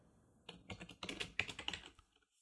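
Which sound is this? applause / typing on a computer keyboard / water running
typing on a computer keyboard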